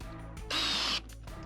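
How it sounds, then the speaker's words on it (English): A power drill drives a screw into plywood in one short, loud, high whir of about half a second, close by, with quiet moments before and after. "Take some screws and fasten your plywood down."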